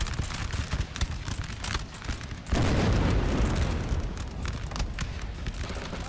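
Cannon fire from a 6-pounder field gun in the game Napoleon Total War: a heavy, sustained booming roar of artillery and battle noise, loud and close, with scattered sharp reports over a dense rumbling background.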